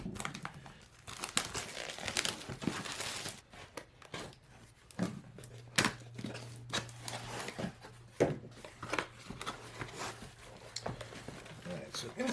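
Cardboard packaging for a Jellas Mouse detail sander is opened, with crinkling, tearing and rustling close by in irregular bursts, while a person talks throughout.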